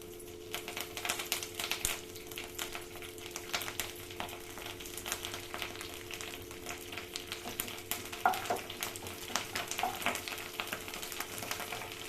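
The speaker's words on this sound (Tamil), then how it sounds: "இப்போ எண்ணெய் நல்லா காஞ்சிருச்சு. இப்போ நம்ம கருவேப்பிலை போட்டுக்கலாம்." Curry leaves sizzle in hot oil for a radish chutney, a quiet, crackly spitting and popping with scattered sharper pops, heard alone at low volume.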